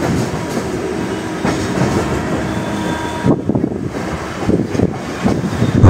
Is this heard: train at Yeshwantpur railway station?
yes